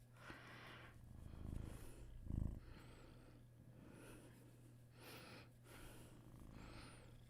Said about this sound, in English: He is purring so loud.